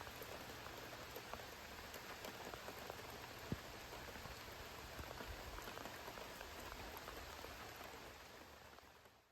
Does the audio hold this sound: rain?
yes